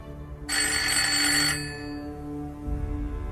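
An old telephone bell rings in one bright, sustained burst of about a second, then fades to a low rumble, with no one picking up.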